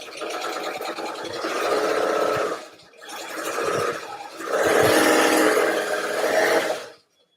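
A sewing machine running a lock stitch across quilt pieces, loud close whirring in three sustained bursts with short pauses between, no talk.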